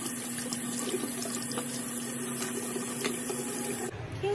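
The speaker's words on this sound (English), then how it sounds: "Now I'm gonna wash his pump." Water runs steadily from a sink tap while breast pump parts are washed, a constant hissing flow with a faint tonal hum, ending with a brief change as the stream is interrupted.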